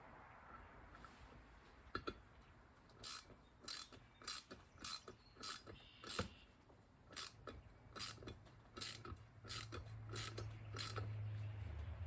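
Hand tap, loaded with anti-seize, cutting threads into a drilled hole, with repeated ratcheting clicks and creaks in short bursts at an irregular pace over a low hum, fairly quiet.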